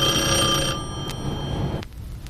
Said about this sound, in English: Like many of these tapes, the audio begins with a phone call.